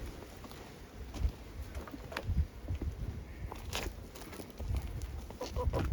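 Broody backyard hens make soft scattered clucks and rustling pecking sounds close by. The calls come irregularly and quietly, with no clear speech.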